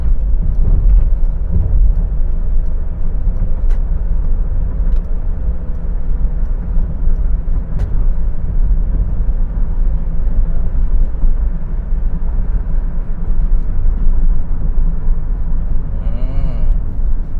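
A 2019 Hyundai H-1 2.5 Elite van accelerates on a test drive, with a steady low engine drone and road rumble heard from inside the cabin and a few faint clicks and rattles.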